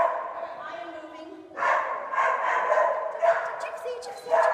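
Dogs at an agility-style training session bark and yip in several bursts, close by, with whimpering between them and a handler's voice mixed in.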